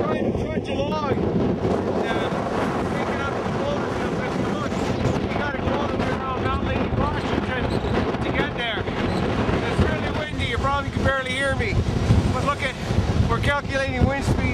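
Strong gusting wind, around 34 mph at its peak, roars across the microphone aboard a sailboat, a loud continuous rush with water noise beneath and voices talking over it throughout.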